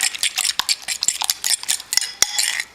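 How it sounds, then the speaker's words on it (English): Eggs for a breakfast burrito are whisked in a bowl, making a close, busy run of quick metallic clinks and scrapes that continue steadily without any talking. "so mix up these eggs"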